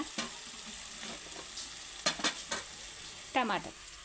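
Eggplant curry stirred in a pan, a soft background sizzle broken by a few scraping spoon strokes against the pan bottom, close and alone without talk.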